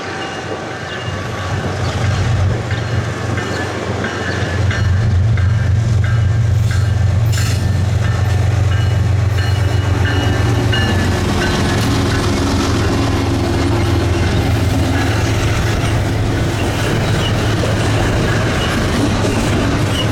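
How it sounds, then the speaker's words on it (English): A double-stack freight train rolls past near Galesburg, Illinois, a loud steady rumble of wheels and cars with faint clickety-clack and engine drone, sustained and close throughout. "before it could clear, this stacked train had to get out of the way"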